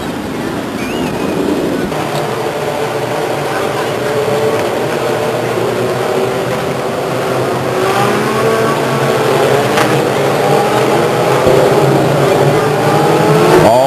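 Legends race cars roar around 99 Speedway in Stockton, California, a loud continuous engine drone with revving surges as the pack circles the track.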